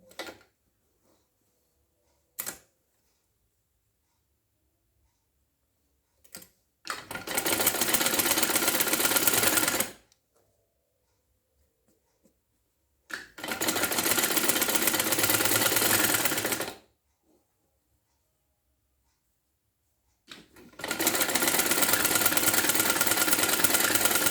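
A sewing machine stitches lace trim onto garment sleeves, running in three loud, steady bursts of about three to four seconds each, separated by quiet pauses and a few soft clicks of handling.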